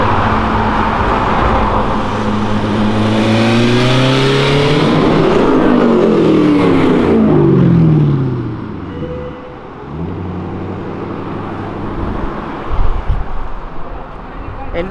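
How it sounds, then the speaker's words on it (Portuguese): A new Corvette engine is revved in neutral close by, its note sweeping up and falling back in loud rising and dropping revs over a busy road, with later bursts of throttle. "Ele não reduziu, mas só jogou no neutro e acelerou pra mostrar o ronco"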